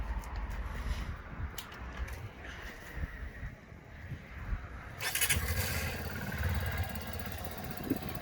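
A Junak M12 Vintage motorcycle with a quiet Euro 5 exhaust fires up partway through, a low steady rumble following the start and holding as a subdued idle close by, with no talk.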